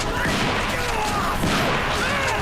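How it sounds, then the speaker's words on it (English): Dense, continuous bursts of gunfire and crashing noise from the Resident Evil video game fill the whole stretch, loud and chaotic, with faint voices mixed underneath. "during the whole attack, I'm hearing gunshots"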